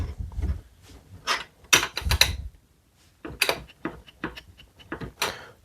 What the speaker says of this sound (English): I'm just going to run my vise up and get it snug